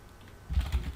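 Code being typed on a computer keyboard: after a moment of near silence comes a short, quick burst of close keystrokes.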